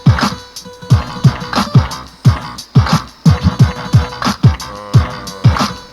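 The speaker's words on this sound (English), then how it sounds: "This is my favorite beat." A hip hop beat plays through a Bluetooth speaker, its punchy kicks and snares hitting in a steady, loud rhythmic pattern without anyone talking.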